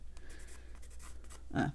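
Soft scratchy strokes of a watercolor pencil on paper, quiet and close, ending with a brief louder rub.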